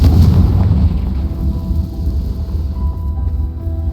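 Confringo fire spell explosion in the video game Hogwarts Legacy, a heavy low boom at the start that fades into a rumbling tail, loud and close with no talk.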